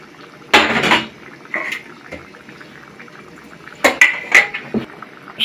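Fish curry with potatoes being stirred in a pan as it simmers, a coconut and potato fish dish; a few scraping utensil strokes and clinks against the pan, loud then quieter, over a soft bubbling background.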